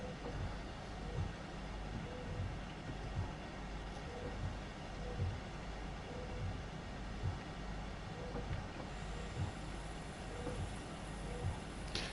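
A locomotive in the Train Sim World 2 game labours uphill on a sanded track in Bavaria, giving a steady low engine rumble with rail noise, continuous and moderately loud throughout with no talking.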